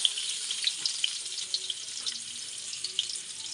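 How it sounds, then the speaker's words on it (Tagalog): Garlic frying in oil in a pan, a steady close hiss with faint crackles and a few light pops throughout, no voices. "Habang hintay natin pumula ang bawang, saka natin ilagay ang sibuyas"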